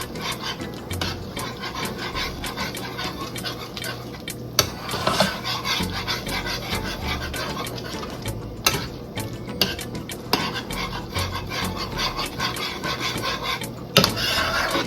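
Steak and rice stirred in a hot pan, continuous scraping and rubbing of a utensil with sizzling, scattered louder knocks against the pan, close and steady.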